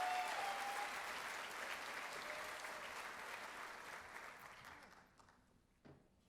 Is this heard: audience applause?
yes